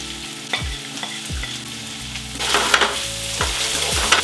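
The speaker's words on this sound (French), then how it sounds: "Le gras commence à chanter, c'est parfait, c'est bon signe." Onion and garlic frying in bacon fat and olive oil, a busy crackling sizzle that grows louder partway through, punctuated by several soft knocks and stirring clunks from a utensil in the pan.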